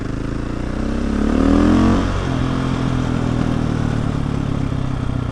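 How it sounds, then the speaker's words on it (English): A scooter rides past on a street, its buzzing engine rising in pitch and loudness as it nears, then falling away into a steady drone; fairly loud and close, with no talking. "Go, Scooter Man"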